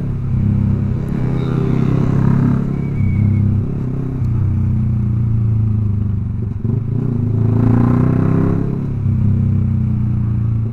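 Yamaha R15 V3 motorcycle fitted with a Proliner exhaust, ridden with a steady loud engine drone that swells and revs near the middle and again toward the end, close and continuous, with no talking.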